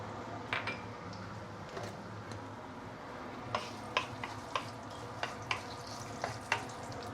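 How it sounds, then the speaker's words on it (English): Ginger sizzles in hot oil for sweet and sour prawns, a soft, even crackle over a low background hum, with scattered light taps of a utensil against the pan. "First of all, let's give it some oil here. Let's saute the ginger a bit."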